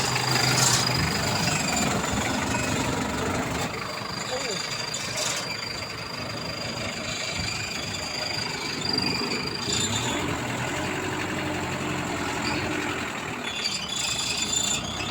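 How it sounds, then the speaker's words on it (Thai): A Toyota Dyna engine fitted to a Thai e-taen farm vehicle idles with a steady low rumble close by, a few brief knocks and a high whine over it, while people talk in the background. "เครื่องดีมากนะครับ"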